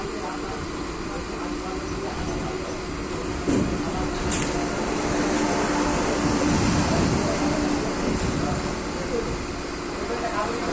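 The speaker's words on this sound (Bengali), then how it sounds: "আর এই যে পাশ দিয়ে যাচ্ছে, এটা হচ্ছে শান্তিনিকেতন এক্সপ্রেস" The Shantiniketan Express rolls past alongside a moving Howrah–Amta local train, a steady broad rumble with occasional clanks, close and sustained, while someone talks over it.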